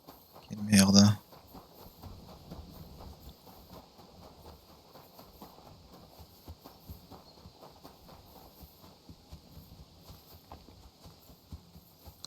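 A horse in Kingdom Come Deliverance 2 gives a brief loud burst, then its hooves settle into a faint, steady clip-clop that runs on quietly.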